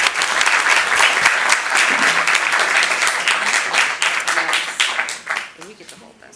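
Steady, loud applause fills a city council meeting in Burbank, dense clapping from the room holding strong before tapering off near the end.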